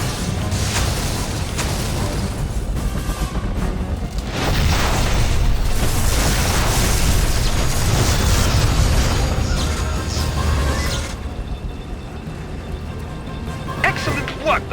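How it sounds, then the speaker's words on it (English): Explosion in the Monsters vs. Aliens video game, a heavy booming blast with rumbling low end that keeps crashing for several seconds, loud and dense, with game voices and effects mixed in. "The explosion has opened up another path."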